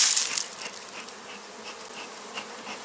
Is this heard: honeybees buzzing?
yes